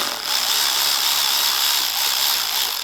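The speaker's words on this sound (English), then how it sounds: "So with the 8mm, we're gonna go ahead and remove the clamp right here, or just not remove it, just loosen it" An 8mm tool loosens the airbox boot clamp on a 2018 Lincoln MKC 2.0L turbocharged four-cylinder, making a continuous close whirring buzz with a hissy edge for a few seconds, no voices over it.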